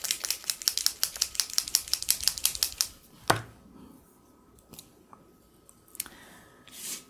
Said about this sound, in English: Let me give this a shake.